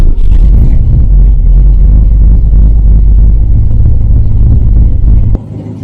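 A 1965 Ford Mustang Fastback with a freshly overhauled original engine rumbles loudly and close at the start of a test drive, a deep steady engine drone that drops off abruptly near the end.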